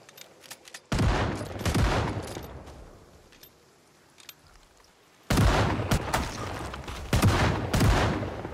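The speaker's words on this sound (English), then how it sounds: "And then Diane started shooting." Bursts of gunfire from Diane shooting in Project Zomboid, a zombie survival game: two dense stretches of rapid, loud shots separated by a quieter lull with scattered single cracks.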